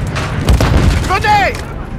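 A grenade explosion in the Call of Duty video game gives a loud, deep boom that sits under shouted game voices and radio chatter, with a rumbling low tail.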